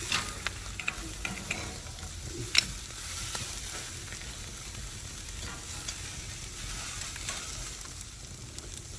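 Steak cooking close to the charcoal fire on a Kamado Joe Big Joe grill, a soft, steady sizzle with scattered small crackles and pops, faint throughout.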